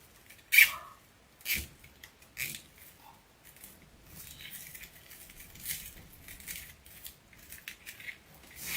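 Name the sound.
scissors cutting off deco mesh tails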